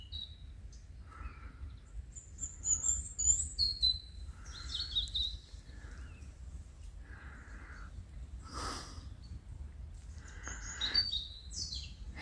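Birdsong in the countryside between Bidache and Ilharre, with scattered high chirps and short trills coming and going, some near and some distant, over a soft outdoor rumble.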